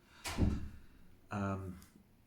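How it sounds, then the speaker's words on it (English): Wind gusts shake and rattle doors in two separate bursts, a loud banging rattle followed by a steadier buzzing shudder, with quieter moments between them. "the wind blowing my doors"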